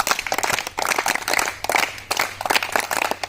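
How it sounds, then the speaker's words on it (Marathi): Children and other listeners clap together at a lively singing and puzzle games gathering, a dense, moderately loud patter of many hands in uneven bursts. "सगळ्यांनी टाळ्या वाजवा"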